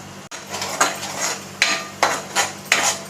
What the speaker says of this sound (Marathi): चांगलं मिक्स करून मसाल्यांना तेल सुटेपर्यंत भाजून घ्यायचे